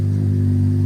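A Honda Civic Hatchback Sport with a retrofitted Type R exhaust revving hard and loud up close, a deep steady exhaust rumble with a rapid pulsing throb, no voices.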